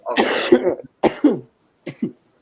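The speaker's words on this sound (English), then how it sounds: "Sorry for cough." A person coughs close to the microphone: one long, harsh fit, then two shorter, weaker coughs with brief pauses between them. No one speaks.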